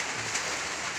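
Heavy typhoon rain from Typhoon Pepito pours down on a Philippine farm, a dense continuous hiss of falling water with no pauses.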